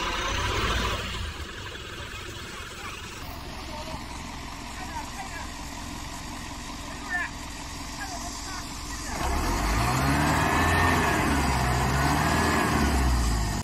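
An Isuzu NQR 4x4 truck drives a rough wilderness road, its engine a steady low rumble under people talking, growing louder and more strained toward the end as it pulls harder.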